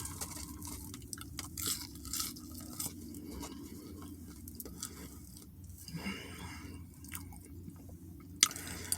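French fries from a Philly steak shop are chewed close to the mic during a mukbang meal, with soft crunchy bites and moist chewing repeating irregularly throughout.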